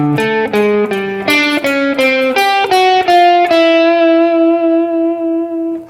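Distorted electric guitar plays a descending chromatic pentatonic lick from the fifth string to the second, a quick run of picked notes ending on a sustained ringing note, loud and alone.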